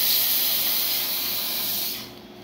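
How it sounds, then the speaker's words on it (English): A strong, steady steam hiss from a La Cimbali Jr. espresso machine steam wand blasts continuously for about two seconds, then cuts off abruptly, leaving a quieter background. "Yeah, the steam is nice and strong also."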